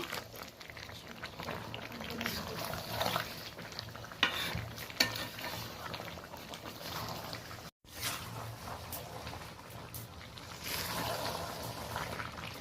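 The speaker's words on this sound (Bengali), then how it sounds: "মোটামুটি এটা হালকা করে আমি মাংসের সাথে আলুটা নেড়ে নিচ্ছি।" A utensil scrapes and stirs through chicken and potatoes in a hot pan while they fry for a light country-chicken curry, a continuous close sizzle with uneven scraping strokes and no pauses.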